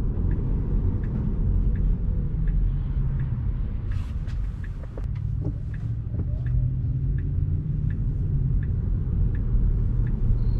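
A Tesla car on FSD 12.5.4 driving speeds up, a steady low road rumble and tire noise heard from inside the cabin, with faint rhythmic ticking and a few brief clicks, and no talking.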